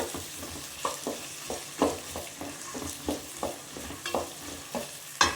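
Green peas frying in a little oil, a soft steady sizzle broken by regular scraping stirs roughly every half second, close by and without voices.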